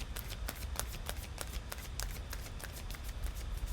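Romance Angel oracle cards being shuffled in a quiet room, a steady run of soft, rapid riffling flutters with light papery slaps, close and continuous, with no voices.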